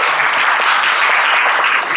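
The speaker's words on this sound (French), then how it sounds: "on applaudit Stéphane" An audience at a heritage conference applauding a speaker: dense, steady clapping from a full room, continuous and fairly loud throughout, with no voices standing out.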